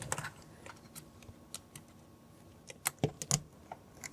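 Keys of a Yunzii B75 Pro Max mechanical keyboard being pressed, scattered clacky thunks close by at an uneven pace, with a quick louder cluster near the end and no speech.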